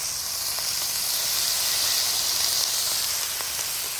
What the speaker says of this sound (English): Let's put our first piece of bacon in there.